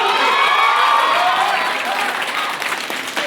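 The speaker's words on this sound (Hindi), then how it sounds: "तो तालियां हो जाए एक ऐसे नेता को।" Loud, dense applause from an audience cheering a politician at a student role-play event, with some crowd shouting mixed in, steady throughout and easing slightly toward the end.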